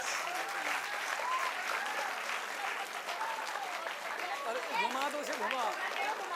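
An audience at a NEET exam results celebration claps steadily and warmly throughout, dense applause with cheering voices and shouts rising over it.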